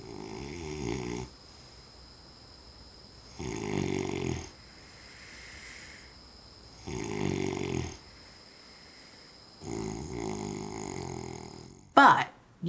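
A man with sleep apnea snores loudly in his sleep: four long, evenly spaced rasping snores with quiet breathing gaps between them, then a brief clatter at the very end.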